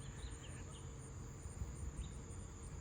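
Mosquitoes buzzing outdoors make a faint, steady insect whine with thin high tones drifting in and out over a low background rumble, with no voices.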